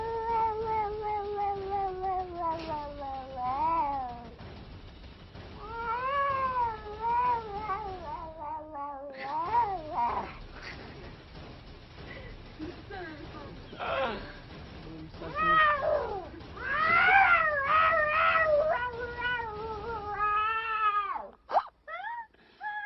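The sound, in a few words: cat meowing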